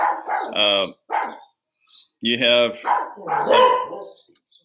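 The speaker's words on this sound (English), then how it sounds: "It's never a show in the backyard without these guys barking." Several dogs bark in a backyard, sharp repeated barks and yips in bursts, loud and close, with a person briefly speaking between them.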